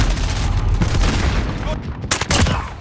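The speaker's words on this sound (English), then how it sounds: "Throwing grenade!" A grenade detonating amid gunfire in a military shooter game, a loud booming blast with rapid shots and crackling bursts layered over steady battle noise, with some speech mixed in.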